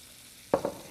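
Cabbage dropped into a hot pan, giving two short bursts of sizzling that fade quickly against a quiet kitchen background.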